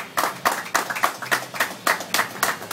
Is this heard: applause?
yes